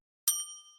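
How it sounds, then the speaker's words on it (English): A bell sound effect from a mixing machine button gives one bright, clear ding that rings out briefly after silence. "I will later edit in this sound of a bell"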